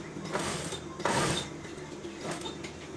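A sewing machine stitches along the edge of a shirt collar stand in short bursts, with one longer whirring run in the middle, close and moderately loud.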